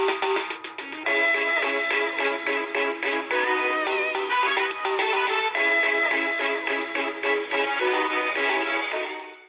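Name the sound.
theme song of Kenyan stand-up comedy show Churchill Show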